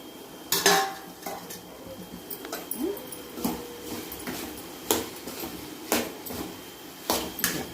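Potato curry stirred in a pan with a spoon, giving scattered metallic scrapes and clinks at an uneven pace, moderately close, with no talk.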